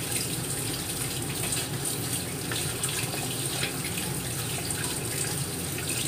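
Soaked mushrooms are rinsed under a running kitchen tap, a steady close gush of water splashing over them in the sink without a break.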